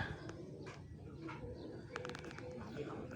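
Fighter pigeons coo in soft, low throaty bursts nearby, faint and intermittent, with someone speaking over them.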